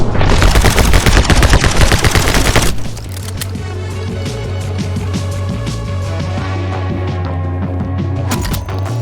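Rapid gunfire from guns in the video game My Friend Pedro: a dense, loud burst of automatic shots, then a sudden cut to steadier game music with scattered sharp shots.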